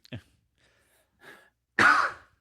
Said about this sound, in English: While he's coughing.